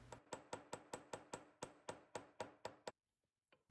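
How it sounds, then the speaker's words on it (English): A gold ring shank hammered on a mandrel, about a dozen sharp metallic blows at a steady quick rhythm, close and distinct, then a pause and one more strike. "I am hammering the sheng on the mandrel to make it perfectly round."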